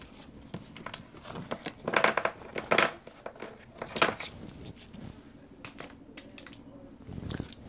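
Tarot card decks being shuffled by hand, crisp papery riffles and crinkling bursts in irregular clusters, close and fairly quiet, with no talking over them.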